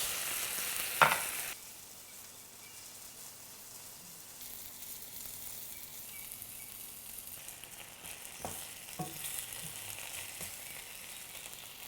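Potatoes fry in a pan with a steady hiss and sizzle, preceded by a sharp clatter, with occasional stirring scrapes later.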